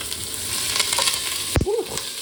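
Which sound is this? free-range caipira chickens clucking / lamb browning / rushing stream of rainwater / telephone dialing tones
lamb browning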